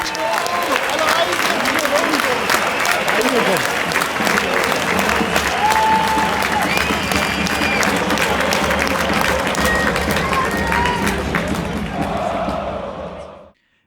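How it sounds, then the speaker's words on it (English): Stadium crowd at a football match roars and applauds continuously as Emil Forsberg comes onto the pitch, a dense, loud wall of cheering and clapping that holds steady before fading out at the end. "the crowd being very animated because of a decision by the referee"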